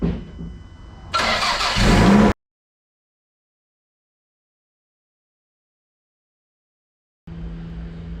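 A Toyota 5SGTE engine for an ST185 Celica rally car, with spark plugs refitted, cranks and catches, then runs loudly and revs before cutting off abruptly; after a long silence, a steady running drone returns.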